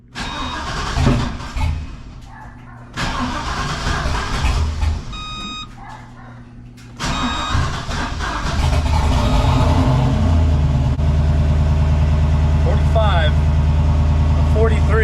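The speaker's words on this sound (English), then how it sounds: "Try to get it running again." A junkyard 6.0 engine cranks in two short bursts, then catches and settles into a loud, rough, badly out-of-tune idle that runs steadily to the end, with a voice speaking over the early cranking.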